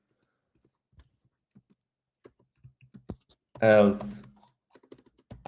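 Keys clack on a Mac keyboard in scattered light taps, a few isolated clicks spread out and faint, with a short burst of speech breaking in midway.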